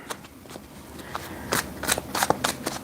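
Tarot cards are shuffled by hand close up, a run of quick riffling bursts and soft slaps growing louder over a few seconds.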